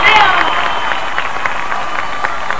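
An audience applauds a guitarist at a 1998 concert in Córdoba, steady crowd clapping filling the space with a few louder claps standing out, and a voice briefly heard at the start.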